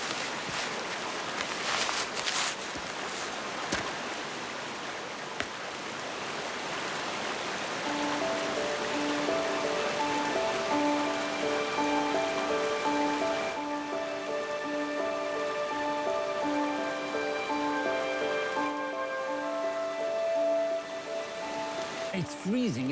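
Steady rain falls at a cold forest camp where a grizzly bear stakeout is under way, a dense hissing patter throughout, with clatter and handling early on and a sustained tonal hum joining partway through.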